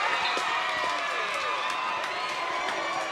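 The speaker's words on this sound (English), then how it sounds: "Crowd's going crazy here at the ground." Crowd cheering at a hockey shootout during the NZ Māori Hockey Nationals Tane final, a steady broad roar of many voices at a distance with scattered whistles and claps, continuous and fairly loud throughout.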